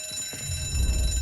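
An alarm rings in the video game Mafia: Definitive Edition, a steady high electronic tone held through a short stretch, with low rumbling game sounds building beneath it.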